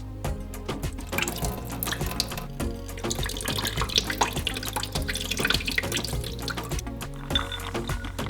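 Soaking water drains from a bowl of soaked peanuts, giving close splashing, trickling and dripping that is irregular and continuous and has no voices.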